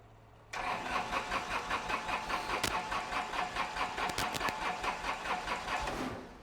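A Kubota F2650 tractor engine cranks briefly and then fires, settling into a steady, rhythmic diesel idle close by before cutting off abruptly.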